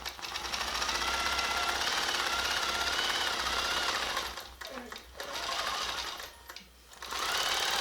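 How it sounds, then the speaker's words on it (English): Longarm quilting machine stitching back over a seam, a loud, even, rapid mechanical rattle running steadily, then stopping and starting in short runs toward the end. "sew right back over top of that seam you just made"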